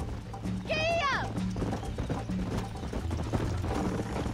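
Hooves clop in a steady trot from a horse in the Red Dead Redemption video game, with a whinny rising early and voices talking over the ride.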